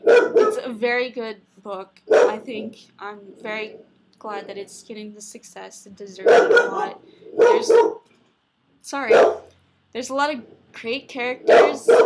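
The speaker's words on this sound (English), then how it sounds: "That is my dog barking." Raven, a female pet dog, barks repeatedly indoors in short loud bursts and yips that interrupt a person speaking close by.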